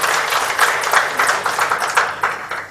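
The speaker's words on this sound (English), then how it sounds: "Let's give him a big applause." Audience clapping at a building certification felicitation ceremony, a steady patter of many hands, moderately loud and close, sustained for a few seconds with no talk over it.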